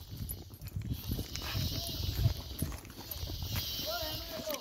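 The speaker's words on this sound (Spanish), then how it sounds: "Solo es que patinan los caballos." Horses walk through slippery mud on a rural trail, their hooves making soft, irregular squelching steps beneath ambient outdoor noise.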